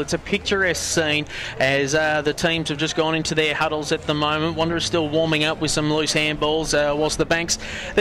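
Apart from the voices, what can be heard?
None of the usual background noises is heard.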